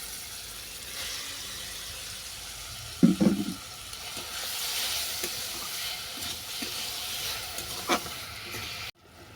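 Naga fruit and grape chutney with salt and sugar cooks gently over low heat, giving a soft, steady sizzle and hiss with a few brief stirring clatters.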